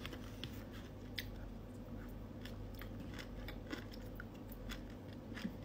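Someone chews a mouthful of Shanghai crab roe over rice with kimchi, giving soft, steady wet chewing and occasional crunchy bites close to the mic, with low background hum and no talking.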